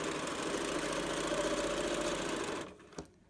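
A sewing machine runs steadily while back stitching a seam on a zipper pouch, a close, even mechanical whir for most of the time before it stops abruptly, followed by a single small click and near silence.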